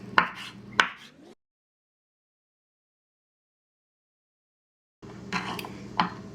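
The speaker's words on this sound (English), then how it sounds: "first they want us to roughly chop our parsley and mince or finely chop our garlic" Parsley is roughly chopped with a knife on a cutting board. A few sharp knocks play, then a long silence, then another burst of chopping. There is no talking.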